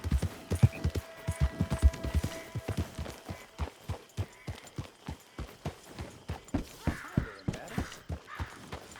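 Hooves of a horse in the video game Red Dead Redemption 2 clop in a steady walking rhythm, close and distinct, with faint background sound between steps.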